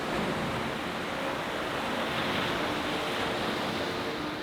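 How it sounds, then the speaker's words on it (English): Sea surf washes continuously onto a beach in a dense, even roar with some wind buffeting, and no voices. "The sea just keeps coming in and taking a little bit more with it each time."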